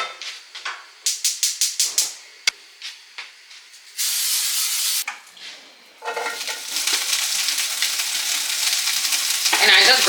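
Asparagus spears cooking in a pan, with a few quick taps and clatters first, then a steady, fairly loud sizzling hiss that starts, breaks off and resumes, with no talking.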